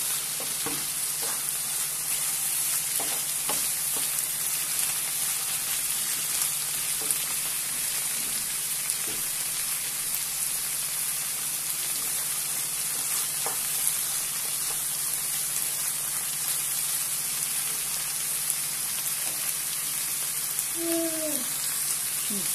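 Tomato paste sautés in a pan for karnıyarık, Turkish stuffed eggplant, giving a steady, even sizzle with a few soft stirring scrapes and no talking.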